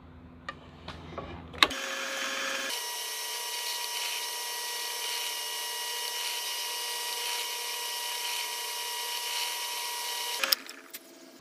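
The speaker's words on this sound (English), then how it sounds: "3/32 drill bit installed into the drill press" A steady, high-pitched mechanical whir of a drill press with a 3/32 bit drilling holes in a cigar box guitar fretboard for several seconds, preceded by a few clicks and followed by a clunk as it stops.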